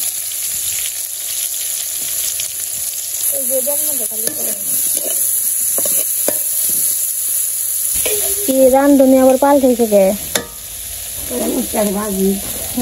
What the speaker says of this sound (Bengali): তেল গরম হয়ে গেছে, বেগুন দিয়ে দিই